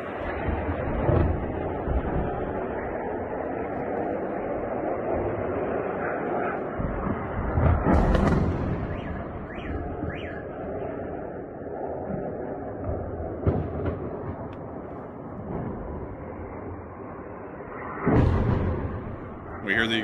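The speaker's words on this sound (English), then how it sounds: "We hear the explosion still continuing." Explosions echo through a city during a missile strike, a continuous heavy rumbling roar broken by several sharper distant blasts and bangs over twenty seconds.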